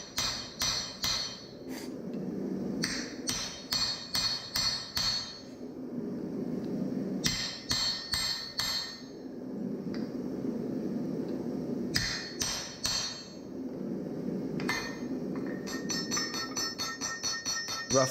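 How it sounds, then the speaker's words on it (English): Hammer blows ring out on a hot Damascus axe blade during rough forging, loud metallic strikes in quick rhythmic bursts with bright anvil ringing between them, broken by short pauses and then faster runs of lighter taps. "Rough forging the blade of the axe a little bit, getting the initial bevels in"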